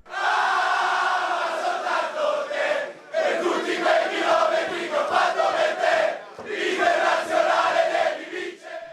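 University students who support Inter chant football songs for captain Javier Zanetti, a loud massed crowd chant rising in three rhythmic phrases separated by short pauses.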